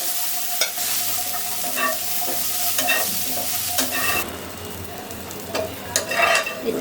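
Small red potatoes, lightly parboiled, frying and being stirred in oil in a home kitchen, with steady sizzle and repeated scraping stir strokes close by, no talk.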